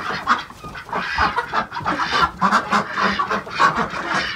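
Domestic fowl, geese and chickens, honk and cluck in a snowy yard at a country house in Canada in freezing winter weather. The calls are loud, dense and overlapping and continue throughout with no talking.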